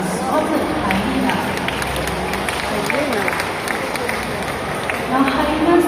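Audience applause at a night safari animal show, cheering a spotted hyena named Shaka; a steady wash of clapping and crowd murmur from a large outdoor audience continues throughout and swells slightly near the end.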